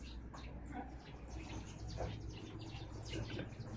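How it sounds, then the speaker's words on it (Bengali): Sparrows sheltering from a storm give faint, scattered chirps against a steady low rumble of wind and rain. "ঝড়ের কবলে আশ্রয় নিয়েছে এই পাখিগুলা"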